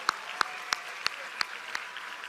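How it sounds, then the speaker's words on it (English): At a graduate end-of-year ceremony, sharp claps land in a steady, evenly spaced rhythm about three per second, standing out over a softer background wash of applause in the hall. "Keep the applause going"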